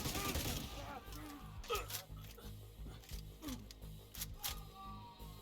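Light machine gun fire in The Division 2 shooter game crackles in several short bursts over a busy mix of game effects, with a voice talking throughout.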